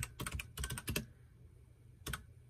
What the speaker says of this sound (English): let me type this one in real quick